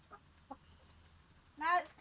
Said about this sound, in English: watch all of the chickens eating at the same time